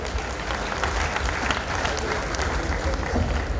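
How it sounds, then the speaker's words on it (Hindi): Loud, dense applause from a large crowd at a Maharana Pratap Jayanti gathering in Udaipur, a continuous wash of many hands clapping at steady intensity throughout. "आप सबके लिए भी एक बार जोरदार तालियां बजा दें।"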